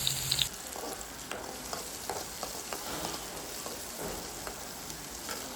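Curry leaves sizzle in hot oil with fried onions, giving a soft steady frying hiss dotted with light stirring taps and scrapes, close but fairly quiet for a green banana palya.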